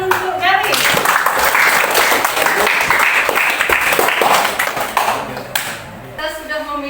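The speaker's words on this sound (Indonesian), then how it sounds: "Ya, tepuk tangan untuk Gali." Burst of classroom applause from schoolchildren clapping for a classmate, dense and lively near the listener, tapering off after several seconds as a teacher's voice resumes.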